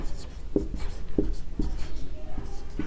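Chalk or marker writing on a board during a class 9 maths lesson on rational numbers, several short sharp taps and strokes at an even rhythm with faint background noise.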